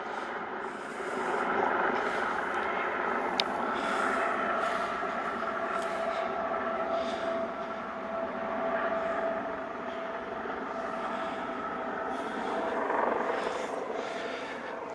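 A LifeFlight medical helicopter with two pilots aboard orbits to the left before landing at a pre-designated helipad, giving a steady, moderately distant rotor and engine drone that holds throughout with slight swells.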